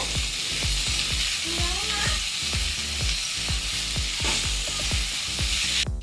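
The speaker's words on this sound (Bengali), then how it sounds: "এবার নেড়ে চেড়ে নেব" A spatula stirs greens and potatoes frying in a pan: rhythmic scraping strokes about every half second over a continuous loud sizzle, ending abruptly.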